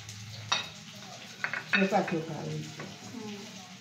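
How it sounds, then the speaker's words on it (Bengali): Potatoes fry in a pan with a soft sizzle, under scattered clinks and scrapes of a utensil against the pan. "এখানে মা আলু ভাজতে শুরু করে দিয়েছে"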